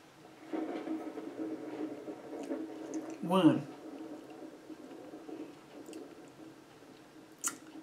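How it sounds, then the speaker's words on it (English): Raw garlic cloves are chewed close to the mic, with faint soft mouth sounds, one louder wet crunching squish midway and a small click near the end. "Got to eat all these 12 garlic cloves and eat that lemon."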